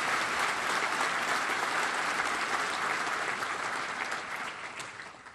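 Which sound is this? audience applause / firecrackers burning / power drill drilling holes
audience applause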